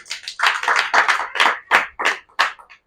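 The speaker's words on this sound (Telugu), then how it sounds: "చప్పట్లు కొట్టి కనపరచండి అమ్మా" A small group claps hands in loose rhythmic bursts at a cottage prayer gathering, several close, sharp claps forming uneven beats across a few seconds with no talking.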